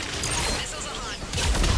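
Missiles launching in the video game Mass Effect 3, a dense loud barrage of rapid blasts and whooshing bursts that swells sharply near the end.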